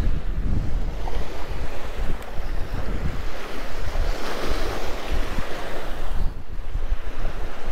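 Steady wind buffets the microphone over continuous surf rolling onto the Taganrog Bay shore at Yeysk, a loud, unbroken roar of waves and gusts with no voices.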